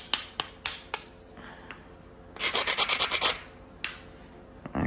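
Flintknapping on a stone preform: a string of sharp clicks from striking its edge, then a burst of raspy scraping as the edge is ground, followed by a few more clicks, close and distinct.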